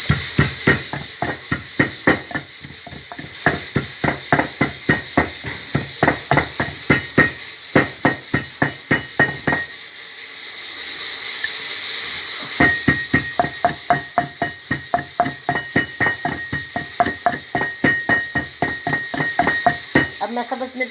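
Tomatoes, mint, coriander and green chilies being ground for a Sargodha-style dal, heard as a fast, even series of sharp knocking strokes that pause briefly midway and then resume. A faint voice sits underneath.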